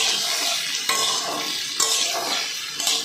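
Papaya and carrot pieces stirred in hot oil for lentil dal, a steady close scraping and sizzling texture with a few sharper scrapes of the utensil against the pan, no talking.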